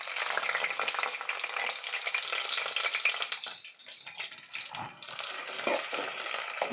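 Chopped onions and green chilies hit hot oil with cumin and mustard seeds in a pan, a loud broad sizzle that dips briefly as they are stirred, then crackles on.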